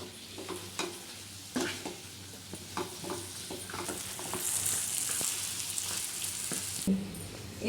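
Chicken korma stirred in a pan, a steady close sizzle broken by repeated scraping and knocking strokes of a spoon against the pan, with no voices.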